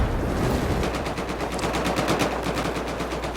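Sustained rapid automatic gunfire in a Battlefield 4 competitive match on the Flood Zone map, Korea versus Taiwan teams, loud and continuous with dense repeated bursts throughout, no talking.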